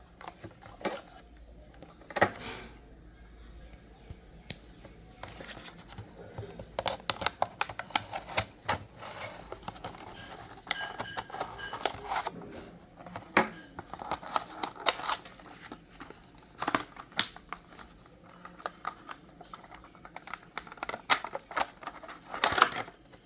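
Unboxing a Matchbox 2019 Ford Ranger toy car from its package brings a stream of small clicks, taps and plastic and cardboard rustling, close but quiet, with irregular sharp ticks and no talking.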